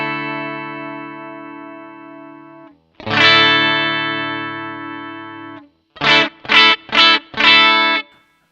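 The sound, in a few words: coil split humbucker guitar through graphic EQ pedal, frequency boosted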